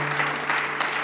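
Audience applause at a live music session for a performing duo, a brief burst of steady, moderately loud clapping with a faint low hum underneath.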